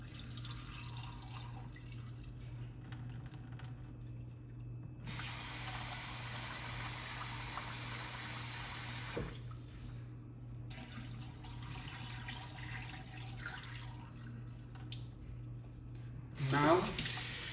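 Tap water runs into a pot of soaked rice for chole pulao in a home kitchen, a steady hiss of flow that cuts off and restarts in several stretches, ending with a brief clatter.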